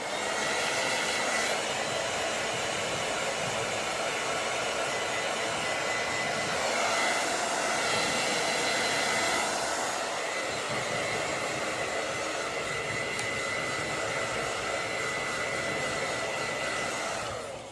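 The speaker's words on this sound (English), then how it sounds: "So I'm gonna quickly just blow dry my hair just for a second." A handheld hair dryer blows steadily on hair for the whole stretch, a loud continuous whoosh that wavers slightly as it moves, with no talking.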